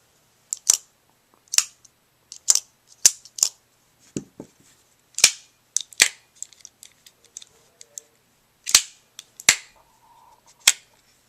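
Two Benchmade Griptilian folding knives, a large 553 and a mini 556, flicked open and shut with sharp, close snapping clicks, about a dozen spaced roughly a second apart, with no talking.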